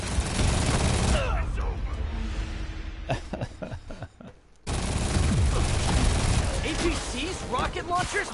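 Heavy automatic fire from miniguns and rocket launchers in Marvel's Spider-Man, with dense sustained bursts, a brief lull of scattered shots around midway, then loud continuous gunfire resuming.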